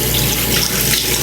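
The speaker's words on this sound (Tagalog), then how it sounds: "Ang hirap na maghilamos ng isang kamay lang." Tap water runs steadily and close into a sink while someone washes their face one-handed, a loud, even splashing rush with no voices.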